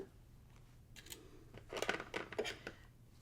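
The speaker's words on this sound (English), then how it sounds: "Going to trim your little thread" Scissors snip loose quilt binding thread in a few quick, faint clicks and rustles, close up and quiet with no talking.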